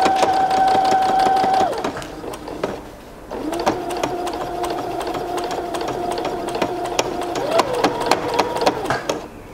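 A domestic sewing machine stitches fabric for drawstring pants, with a loud, close, steady motor hum and a rapid needle clatter. It runs in two stretches separated by a brief pause.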